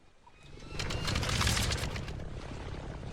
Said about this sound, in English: Let's start up the plane.